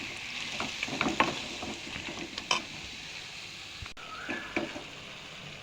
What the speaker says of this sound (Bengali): চিকেনটা ভালো করে ফ্রাই হয়ে গেছে